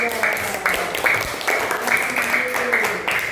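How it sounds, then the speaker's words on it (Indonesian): Pupils in a classroom applaud group 2, a modest patter of clapping hands mixed with children's voices in the room. "tepuk tangan buat kelompok 2"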